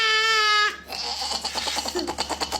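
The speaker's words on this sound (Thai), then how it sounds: "อันนี้คือแกะแกะแกะ" A sheep bleats once, a long wavering cry close by, then stops abruptly, followed by indistinct background chatter and noise.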